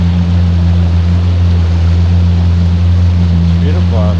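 A Yamaha Waverunner FX jet ski rides along a Florida canal in the evening, its engine a loud, steady low drone with water and wind noise throughout; a voice briefly speaks near the end.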